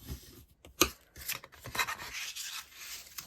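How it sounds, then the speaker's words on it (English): Folded cardstock for a gift box is burnished along its crease, giving soft close rubbing and scraping strokes in short bursts, with one sharper tap partway through. "Next stage is just to fold and burnish"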